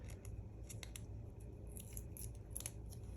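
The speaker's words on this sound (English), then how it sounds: "I'm just going to peel the backing" Backing being peeled off a clear plastic piece for a handmade interactive card, a quiet, close crackly rustle with a few brief ticks, no talking.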